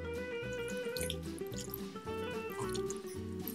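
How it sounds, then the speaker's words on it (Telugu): Water goes into a chicken keema curry in a pan with a close, continuous trickling and dripping pour that lasts throughout. "దీంట్లో కొన్ని వాటర్ యాడ్ చేద్దాము"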